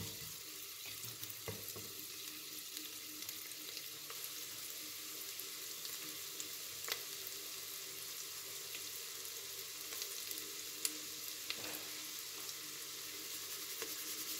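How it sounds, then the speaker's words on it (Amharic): Cauliflower fries in a pan with a faint, steady hiss that runs the whole time. A few soft scattered clicks and stirring touches sit on top of it, with no voices. "እንደዚህ ጠበስ ጠበስ አድርገዋለሁ ትንሽ"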